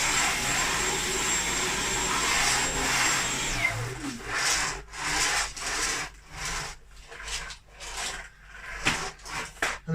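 Dyson V11 cordless stick vacuum running on low with a scratchy fault, a steady whine for a few seconds followed by rough, rhythmic scraping pulses as it is pushed back and forth, close and alone.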